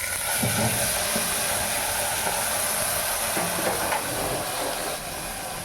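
A kitchen mixer grinder whirs loudly and steadily while grinding cumin seeds, a dense, continuous roar that eases slightly in the last moment.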